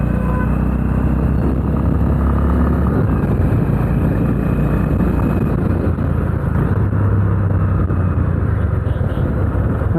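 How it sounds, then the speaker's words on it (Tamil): A Honda Highness CB350 motorcycle engine rumbles steadily and loudly for the whole stretch, a deep continuous drone with no voices over it. "கண்டிப்பாக ஒரு ரம்பிளிங் சவுண்ட் கொடுத்துருக்காங்க."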